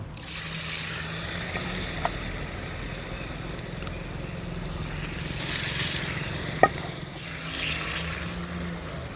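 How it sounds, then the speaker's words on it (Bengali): Thankuni leaf fritters fry in hot oil, a steady close sizzle and bubbling lasting throughout, with a low background hum, a small click early on, and a sharp clack partway through as a fritter is handled. "এবারে আমি নামিয়ে দিচ্ছি একে একে সব বড়াগুলো তৈরি করে নেব"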